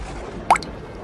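A single water drop falls with a clear plop from a leaking roof during heavy night rain in an animated story, one distinct drip over a steady soft background hiss.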